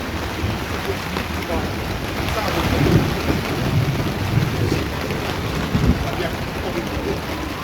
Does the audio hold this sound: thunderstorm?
yes